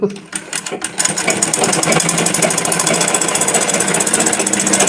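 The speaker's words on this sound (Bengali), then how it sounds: "এই ব্যাগটা মা এখন সেলাই করছে" A mother stitching up a torn bag on a sewing machine: after a few start-up thumps, a loud, fast, even rattling hum of the needle runs continuously and close by.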